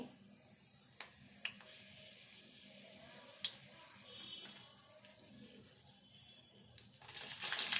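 Mustard seeds, cumin and dried red chillies fry in hot oil, a quiet, steady sizzle with a few faint pops and a louder hiss near the end.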